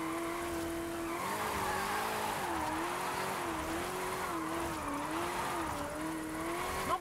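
A 2015 Ford Mustang GT drift car slides downhill on a mountain road, its engine droning steadily with wavering pitch as tires squeal and skid continuously, loud and close throughout with no voices.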